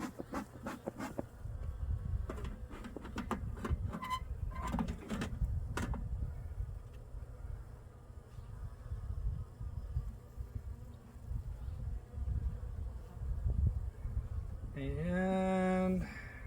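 Honeybees buzz around an open hive being inspected, with robber bees trying to get in at the top, a close, steady hum under scattered clicks and handling knocks, with someone talking at times.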